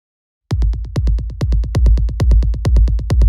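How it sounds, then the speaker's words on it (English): Ambient techno rumble run through a delay and then an amp, blown out and distorted, enters abruptly and pulses as a fast, steady train of gritty hits that stays loud throughout. "You can hear the delay, and then we put it into the amp, and it makes it pretty blown out"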